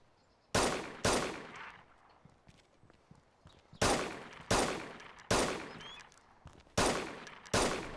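Gunfire from a double rifle in a video game: two sharp, loud reports about half a second apart, a pause, then a series of five evenly spaced shots, each with a decaying echo over quiet background.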